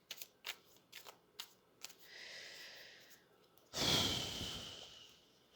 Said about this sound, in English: I'll pull a tarot card